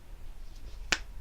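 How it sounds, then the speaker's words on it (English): A single crisp finger snap, sharp and fairly close, stands out against a quiet room background. "I'm snapping my fingers"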